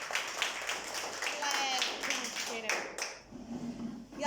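Students in a primary school class clap in a brief burst of scattered, uneven hand claps, fairly faint, with a teacher's voice close by.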